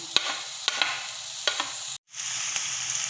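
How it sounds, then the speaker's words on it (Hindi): Chopped onions fry in hot oil in a pan for vegetable kababs, a steady close sizzle with a few brief stirring scrapes and one short break. "और इसमें मैंने ये प्याज कटा हुआ डाल देना है। इसको बस 2 मिनट के लिए भूनेंगे इसके अंदर"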